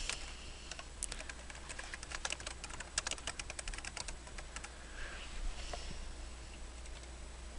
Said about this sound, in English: So let me type that for you here.